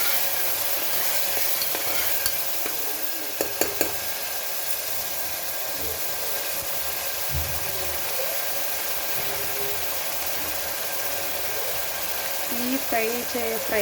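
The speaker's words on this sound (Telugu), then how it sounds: "ఇప్పుడు మొత్తం ఇవన్నీ బాగా ఫ్రై చేసుకోవాలి." Boti curry ingredients fry in a pan with a steady, close sizzle and hiss throughout, broken by a few sharp clinks of stirring near the start and a faint engine-like hum in the background.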